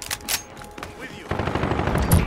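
Gunfire in the video game Call of Duty: Modern Warfare, loud bursts of shots close by, a denser rattling stretch in the second half, with faint voices in the background.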